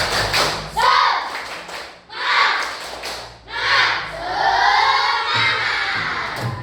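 Classroom of children performing a rhythmic spirit clap, bursts of loud group claps and thumps in patterned sections alternating with shouted chanting voices.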